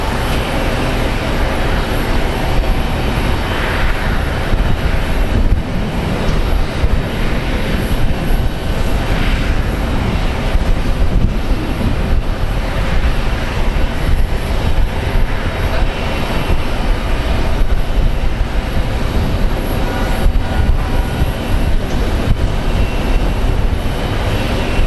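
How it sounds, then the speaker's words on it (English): A Boeing 777 airliner on its takeoff roll at Phoenix Sky Harbor airport gives off a continuous loud, broad engine roar that holds steady throughout. "777 is arriving for its takeoff roll"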